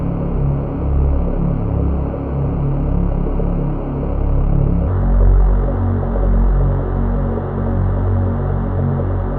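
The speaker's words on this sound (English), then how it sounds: "I do have this very, very mild bass that goes during the second verse" A very mild, low bass line from a song's second verse hums and throbs steadily on its own, dense and murky, shifting pitch partway through.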